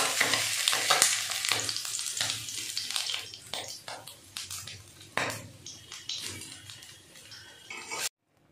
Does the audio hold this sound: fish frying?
yes